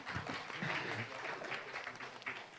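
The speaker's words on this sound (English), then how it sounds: "please give them a round of applause" An audience at a talk on global initiatives gives a round of applause as two guests come to the stage, a soft, even patter of many hands heard at a distance.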